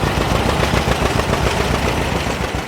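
A vintage Massey-Harris 44 tractor engine runs close by, a loud, steady, rough rumble with a rapid pulsing beat and no pauses.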